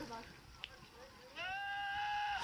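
A goat lets out a long, loud, rising bleat that sounds like a man screaming, sustained and harmonic, following a quieter stretch with a brief sharp noise and background voices.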